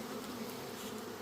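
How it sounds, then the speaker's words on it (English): Honeybees out in force around hives on a warm day: a dense, continuous buzzing drone of many bees, fairly faint and steady, with no voices. "The bees are active. They're out in force."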